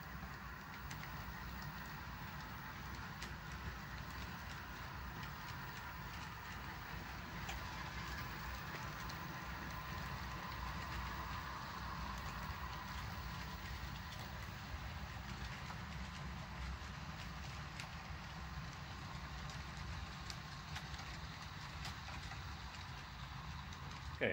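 A model railway train with a long cut of cars rolls steadily along the track on the Okanagan Valley Railway layout, giving a continuous low rumble and faint clicking that holds at an even level throughout.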